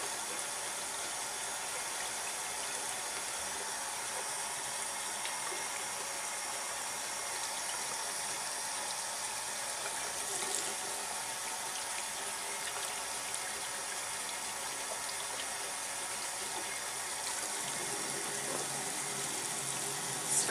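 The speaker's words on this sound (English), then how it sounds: "take my brush, run it under the water" Tap water runs in a soft, steady stream over a makeup brush being rinsed with Castile soap, a quiet continuous splashing at a sink with no talking.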